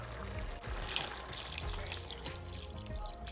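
A cup of water poured into a cooking pot for chicken adobo with vinegar, a steady quiet trickle and splash close by with no talking.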